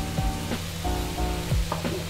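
Curry leaves sizzle and crackle in hot oil as they go into iral thokku, a dense, continuous frying hiss with a steady tone running underneath and brief stirring scrapes, heard up close.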